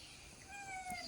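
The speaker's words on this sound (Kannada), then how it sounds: "ಮಿಯಾವ್" A domestic cat gives a single short meow, fairly close and clear over a quiet, slightly noisy background, with no talking.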